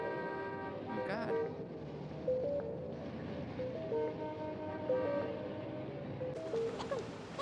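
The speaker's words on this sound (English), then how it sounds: "Why'd he just leave us with nothing but car honks?" Car horns honk in the video game Moon: Remix RPG Adventure, several tonal toots sounding one after another at a steady, moderate level over a layered game soundscape.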